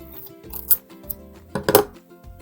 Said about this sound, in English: Next, you're going to cut about 3 inches of a piece of duct tape.